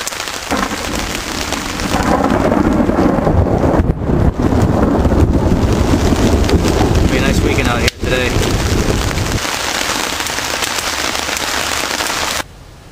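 Heavy thunderstorm rain pours steadily in a loud, dense hiss, with rumbling thunder and gusts of wind buffeting the microphone, continuing throughout before cutting off abruptly near the end.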